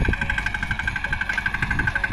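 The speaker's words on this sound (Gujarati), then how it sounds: "તો મિત્રો, અત્યારે આપણા સામરાભાઈ મસ્ત મજાનું ટ્રેક્ટર ચલાવે છે" A tractor engine runs steadily while being driven on a village farm, a loud, continuous rumbling drone with a rhythmic chugging pulse and a sustained whine throughout, close by with no talking.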